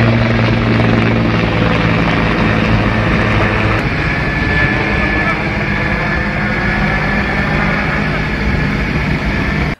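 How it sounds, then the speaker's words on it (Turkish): A Coast Guard helicopter flies over a storm-battered harbour, its loud, steady rotor and engine roar filling the whole stretch without a break, close and constant. "Sahil Güvenlik Komutanlığı helikopteri limanı havadan taradı."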